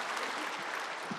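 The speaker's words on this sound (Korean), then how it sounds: "우리 박수로 환영하겠습니다" A church congregation applauds to welcome two speakers coming forward, a steady, dense wash of many hands clapping that fills the short moment evenly, fairly distant and with no voices over it.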